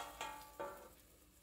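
Raw jackfruit pieces fry in oil on a tawa, sizzling in two short bursts that fade into a soft, steady crackle, close and moderately loud with no voices.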